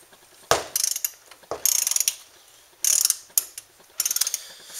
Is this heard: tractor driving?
no